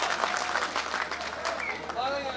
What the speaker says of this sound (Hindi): एक बार जरा जोरदार तालियां उनके सम्मान में बजाकर अभिनंदन